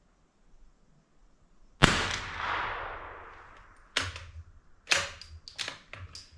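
A Marlin Model 25 rifle fires Federal Auto Match ammunition, one loud sharp shot with a long fading tail followed by three more scattered, lighter cracks, alone with no talk.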